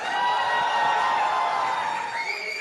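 Crowd cheering and whooping for Deepika at a lively stage event, a steady high-pitched roar of voices with shouts sustained throughout without a clear break.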